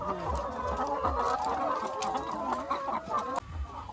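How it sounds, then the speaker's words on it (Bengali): Many chickens clucking together close by in a poultry farm, a dense, continuous chorus of overlapping clucks and squawks with no one talking. "এই যে দেখেন মুরগির খামার"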